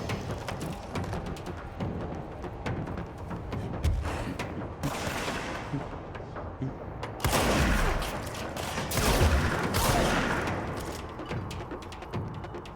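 Shotgun fire in Control, rapid loud blasts with heavy booming impacts and debris in a fast firefight, several bursts packed together and swelling louder toward the end.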